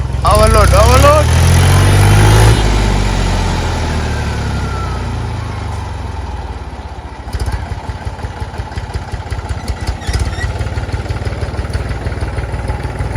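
A tractor engine runs in a farm field where cut brush is being cleared, rumbling low and steady with a louder surge at the start, while people talk over it.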